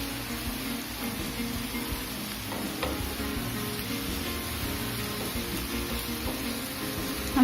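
Ginger garlic paste sizzles and fries in hot oil as a steady, close crackle throughout, with occasional stirring scrapes and no talking.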